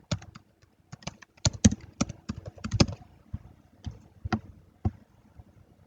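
Keys clatter on a computer keyboard while a RADIUS server name is entered in network access control settings, an irregular burst of close, crisp clicks with short pauses, no talk.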